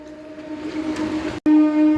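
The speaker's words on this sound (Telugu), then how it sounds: "పొందూరు నుంచి కూడా మన ట్రైన్ బయలుదేరిపోతుంది." A MEMU train leaves Ponduru railway station with a steady tonal hum and rising drone, close and loud, briefly cut by a short dropout before the tone returns stronger.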